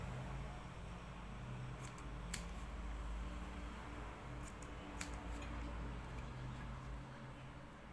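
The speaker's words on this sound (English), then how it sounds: "You can trim out this excess for this one now." Scissors trimming excess fabric from a shirt cuff and sleeve vent, heard as a few faint, brief snips over a quiet, steady background hum.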